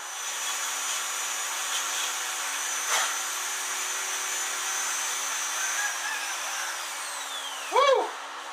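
Dremel rotary tool carving stars into wood, a steady high whining buzz that runs the whole time at an even level, with a brief rising squeal near the end.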